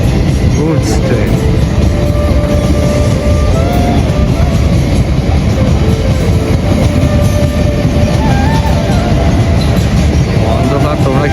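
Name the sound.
goods train passing a railway level crossing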